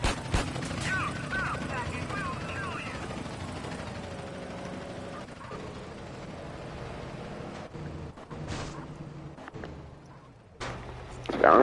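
Helicopter in the video game GTA San Andreas Definitive Edition, a steady rotor and engine drone running throughout at moderate loudness, with someone talking over it and a few mechanical clunks near the end.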